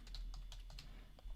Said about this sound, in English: What am I typing?